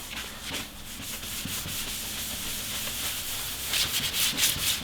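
Rag dampened with isopropanol wiped across car headlight lenses, a continuous close rubbing and scrubbing sound with rhythmic strokes that grows a little louder near the end, with no talking.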